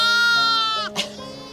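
Lambs bleat on a vineyard farm, one drawn-out, wavering bleat followed by a shorter overlapping call, close and clear against quiet surroundings.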